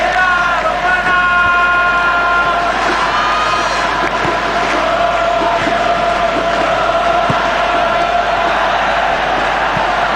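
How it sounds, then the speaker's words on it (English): A football stadium crowd at an Arsenal match roars and applauds in a dense, sustained wash of cheering, loud and continuous throughout, with scattered whistles and shouts rising from the mass. "Crowd appreciates good football all round there"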